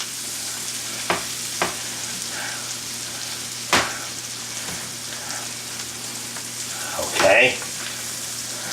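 Cauliflower hash sizzles steadily in a hot pan while being stirred, with occasional scraping clicks of the utensil and a short clatter near the end; a voice speaks briefly.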